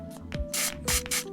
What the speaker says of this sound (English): So just take your contact cleaner, spray it in there, spray a little bit on top too